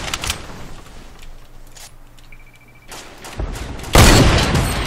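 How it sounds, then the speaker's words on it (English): Rockets fired and exploding in a shooter video game, with several sharp bursts early on, a quieter stretch, then a loud booming blast near the end, all close and prominent. "They're just wasting rockets."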